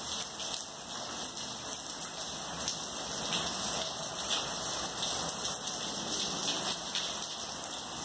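Steady rain falls in a continuous, even hiss with dense patter, holding at a constant level throughout with no voices.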